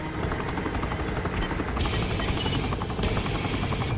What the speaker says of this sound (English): apparently a helicopter got stuck